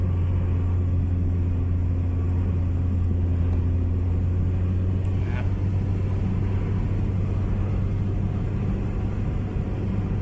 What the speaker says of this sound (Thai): แต่คันเร่งนิดเดียวครับผม รอบขึ้นมาเลยนะครับ